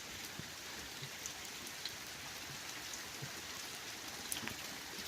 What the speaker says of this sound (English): I'm mad for standing outside in the rain.